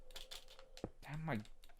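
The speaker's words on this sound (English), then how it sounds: "Damn my keyboard." Computer keyboard clattering in a few quick, close bursts of keystrokes during a Minecraft session, with a voice briefly speaking over part of it.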